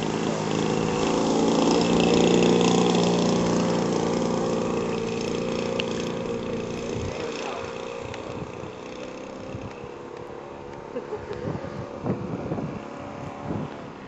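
Buzzing model airplane engine at a flying field, a steady droning whine that drifts and fades slightly as the plane flies, mixed with wind noise and a few faint knocks near the end.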